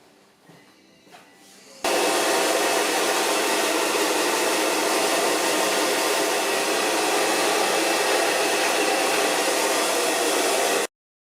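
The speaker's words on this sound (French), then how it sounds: "Donc maintenant je vais vous montrer le séchage des cheveux." A hair dryer blowing on hair during a Brazilian straightening treatment, switching on abruptly after a faint quiet start and running as a loud, steady, broadband rushing roar for about nine seconds before cutting off.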